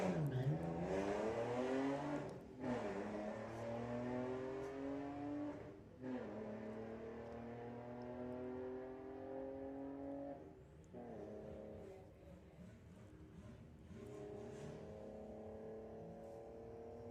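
A Skoda race car runs in drag racing eliminations at Santa Pod, its engine loud and near, rising through repeated gear changes over about seventeen seconds with brief dips between pulls.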